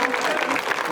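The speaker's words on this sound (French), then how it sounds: "Applaudissez très fort pour elle." Applause from an audience, a dense patter of clapping filling the whole second at steady loudness.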